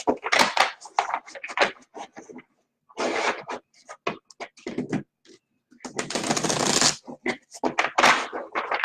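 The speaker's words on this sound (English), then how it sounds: "I'm shuffling the deck right now" A deck of tarot cards is shuffled by hand in several bursts of riffling and sliding, loud and close, with short pauses between rounds and no talking.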